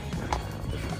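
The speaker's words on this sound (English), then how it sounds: "Such a pretty horse." A horse on a Brussels street gives a quick, close clip-clop of hooves with a brief snort or whinny over faint street ambience.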